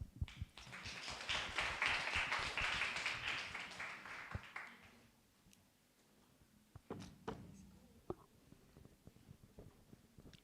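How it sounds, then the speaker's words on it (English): A classroom audience gives a brief, moderate round of applause that dies out after about five seconds, leaving a quiet room with scattered taps and knocks. "Please give them a round of applause."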